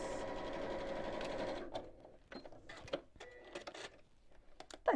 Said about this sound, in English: These are going into a seam, so I can just sew